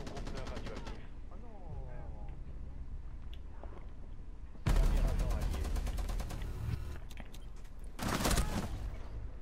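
Bursts of machine gun fire in Rainbow Six Siege rattle out in two loud rapid volleys, the first long and sustained and the second shorter, separated by quieter in-game sounds and a voice speaking.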